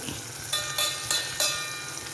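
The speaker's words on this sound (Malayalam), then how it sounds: "നമുക്കിത് കുറേശ്ശെ മൊത്തം വറുത്ത് വരാം. Shallow fry." Steady hiss of oil shallow-frying carrot and bitter gourd for pickle, broken by a few short crackling bursts as the food spatters in the pan.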